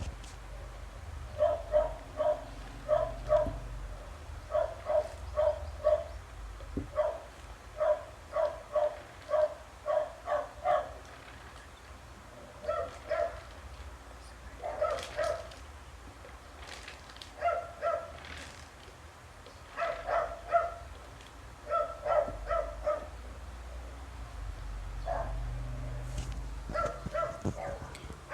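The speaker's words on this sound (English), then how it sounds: "I cannot wait for them to stop barking." Several dogs bark in repeated bursts of yips and woofs, a little distant, through the whole stretch, with short pauses between volleys and the sound of a room behind them.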